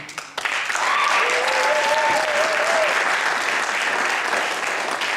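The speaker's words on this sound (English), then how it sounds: "I want y'all to keep those claps." An audience at a teen poetry and artistic showcase in East Cleveland claps and applauds, a loud dense wash of hands that starts abruptly and holds steady, with a few cheering voices rising over it.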